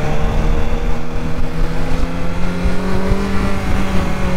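A BMW S1000XR motorcycle engine revs on a ride, its loud, close tone climbing steadily and droning under heavy wind rush.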